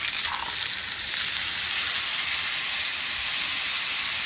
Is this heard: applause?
no